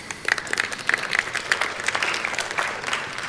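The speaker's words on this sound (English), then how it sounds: "applause" Audience applause at a Vue programming conference talk, a steady patter of many hands clapping close by, with no voices over it.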